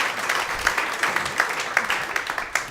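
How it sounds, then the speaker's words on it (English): A comedy club audience applauds a comedian, dense clapping at moderate volume that holds steady for a couple of seconds. "Give him a round of applause!"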